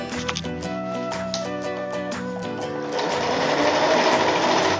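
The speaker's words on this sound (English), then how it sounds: "And now you sew." A sewing machine stitches pieces of felt for a backpack, running in a fast, steady mechanical chatter close by, then speeding up into a louder, denser whir in the second half.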